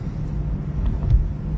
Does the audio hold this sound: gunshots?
no